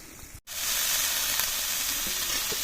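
Boiled banana stem is tipped into a pan of sizzling spices, giving a brief clunk and then a strong, steady, close frying sizzle that fills the rest of the moment with no talk.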